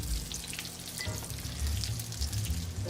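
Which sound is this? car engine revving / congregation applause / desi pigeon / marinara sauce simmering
marinara sauce simmering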